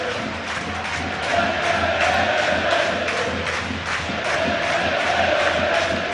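Football stadium crowd at a Tranmere Rovers v Forest Green League Two play-off match cheers in a sustained loud roar, swelling slightly partway through, with a commentator's voice faintly underneath.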